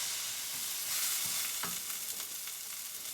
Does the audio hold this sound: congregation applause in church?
no